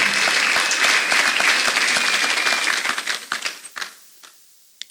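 Church congregation claps hands in a dense burst of applause during a worship service, loud and close, then thins out into a few scattered claps before stopping.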